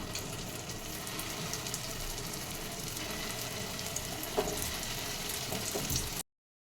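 Food frying in oil in a pan makes a continuous, even sizzle at moderate level, then cuts off abruptly into silence just before the end.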